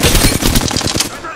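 A brief, loud burst of rapid automatic gunfire in Apex Legends, shots hammering in quick succession up close for just over a second before cutting off.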